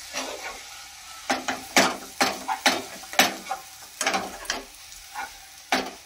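Orange barfi mixture cooked with a spoonful of ghee and stirred in a pan, giving repeated scraping, slapping strokes in a loose, steady rhythm over a low sizzle, close up and without talk.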